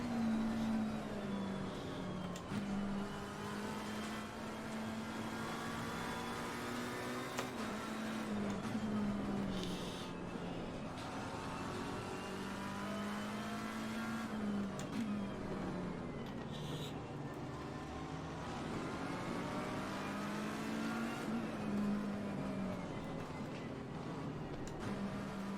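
AMG GT3 race car in Assetto Corsa Competizione, its engine droning steadily with rising and falling pitch through shifts and corners, held up in traffic behind an Aston Martin, no talk over it.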